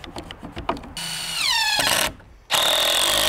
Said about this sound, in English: I'm just gonna put a few screws in the center too